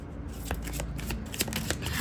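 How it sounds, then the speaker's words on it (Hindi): Tarot cards shuffled by hand in a quick, close riffle of papery flicks and soft slaps, quiet and steady, with no talking. "Now this is the last time हम शफल करेंगे।"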